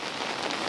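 Steady rain falls on a Vadodara street near shops, a loud continuous patter and hiss of drops hitting hard surfaces close at hand.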